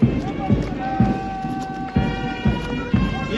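A police platoon marches in step at a ceremonial parade, with boot impacts thudding about every half second. The steady, fairly loud tramp sits over a busy crowd and ambient background.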